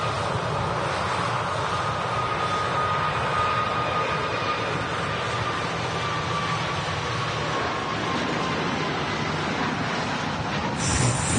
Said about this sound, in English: Another aircraft rolling on the runway.